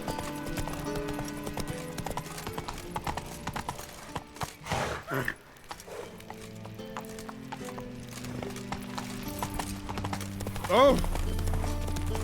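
Horse hooves clip-clop steadily in The Witcher 3 video game, close and fairly loud, with game music, a brief exclamation, spoken dialogue and a short whinny near the end.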